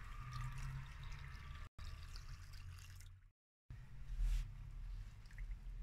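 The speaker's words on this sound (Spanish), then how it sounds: "Vierto el agua que acabo de calentar." Just-heated water poured into a vanilla-scented, coloured cream mixture for no-bake cream buns, a faint steady trickle with a brief gap and a short dropout midway.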